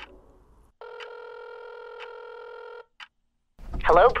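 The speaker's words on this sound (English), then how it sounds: "I dial my phone, putting the phone on speaker so I can keep cleaning." Cell phone on speaker dialing out: a steady electronic dialing tone held for about two seconds with faint key blips, then a short beep and silence before a voice starts.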